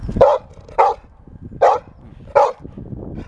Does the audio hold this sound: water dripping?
no